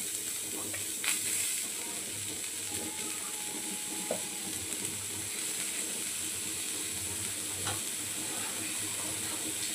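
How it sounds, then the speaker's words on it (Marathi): Onion roasting in oil for an egg curry masala, a steady close sizzle with faint stirring scrapes, moderately quiet and continuous. "कांदा आपण सुरुवातीला भाजून घेऊया"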